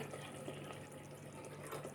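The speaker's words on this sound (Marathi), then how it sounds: "मिक्सरच्या जारमध्येच आपण टाकूया पाणी एक वाटी आणि परत एक वाटी टाकते" Water poured from a bowl into a mixer grinder jar while preparing spinach potato khichdi, a steady close trickling splash lasting throughout with no talk.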